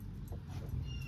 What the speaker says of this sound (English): there's my dog Levi